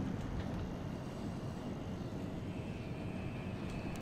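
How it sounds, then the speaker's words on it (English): Steady propeller aircraft engine drone in a World of Warships naval battle, a broad continuous rumble holding at even loudness throughout with no talk. "Detected by a plane."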